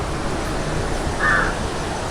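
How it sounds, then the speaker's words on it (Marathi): A crow gives a single clear caw at a temple trip stop near Kusumbi, Satara, heard once midway over a steady outdoor background hiss. "तो कावळा आला"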